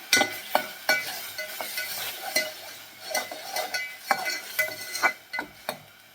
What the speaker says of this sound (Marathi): ती पण या कांद्याबरोबर आपल्याला भाजून घ्यायची चांगली